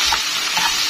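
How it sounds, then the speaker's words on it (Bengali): Spices and vegetables sizzle and fry in a pan while being stirred, a steady close hiss with faint scraping, no voices. "মশলাটা কষানো হয়ে গেলে সবজিগুলো দিব, সবজিগুলো দিয়ে মশলাটা কষাবো।"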